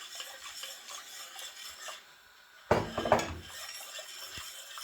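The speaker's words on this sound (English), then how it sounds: "And then I'm going to now go in with my cornmeal. Right. And I'm just going to keep stirring." A spoon stirs cornmeal porridge in a pot with soft scraping and rubbing, then a short burst of louder metallic clinks against the side, close and quiet with no talk.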